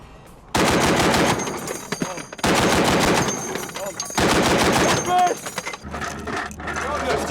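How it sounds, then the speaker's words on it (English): A heavy .50 caliber machine gun fires long, loud, sustained bursts in three main strings separated by brief pauses, close by, at a military base in Afghanistan. "the 50mm heavy machine gun"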